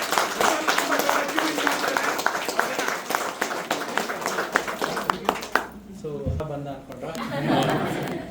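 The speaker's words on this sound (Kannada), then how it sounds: "ಪ್ಲೀಸ್ ಜೋರ ಚಪ್ಪಾಳೆ ಬರ್ರಿ ಸರ್ಗೆ" Audience applause for a presenter at a Kannada-language event, a dense burst of many hands clapping with murmured chatter for about five seconds, then fading into quieter talk as a voice speaks over the room.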